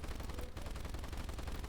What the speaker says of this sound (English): Let's see if I can shoot this guy while I'm flying in VR.